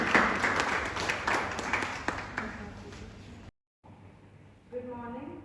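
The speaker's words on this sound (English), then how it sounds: "Please welcome Manshika and Deepika with a huge round of applause" An audience at a student debate competition claps to welcome two debaters, the applause fading over about three seconds, then a short pause and a single voice beginning to speak.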